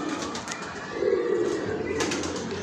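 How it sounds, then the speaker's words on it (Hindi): Teddy pigeons coo softly nearby, a low throaty warble rising in the middle, with faint rustling and shuffling around them. "ये वो वाले टैडी कबूतर है"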